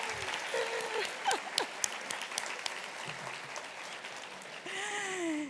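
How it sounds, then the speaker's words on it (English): Applause rises at a dual enrollment recognition ceremony, soft and fairly distant, with scattered sharp claps and faint voices mixed into the crowd noise. "a round of applause for Michael Sullivan"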